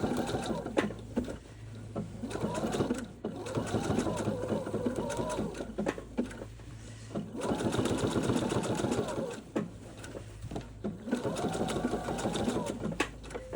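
Sewing machine stitching a Greek key decorative stitch on an appliqué letter, running in repeated bursts of rapid mechanical chatter with short pauses between, while someone talks throughout.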